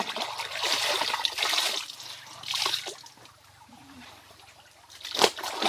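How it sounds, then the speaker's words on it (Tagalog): Clothes washed by hand in a river: splashing and dribbling water in bursts, a few close sloshes and sharp slaps between quieter stretches of trickling, with no talking. "Kaya ako dito naglalaba sa ilog"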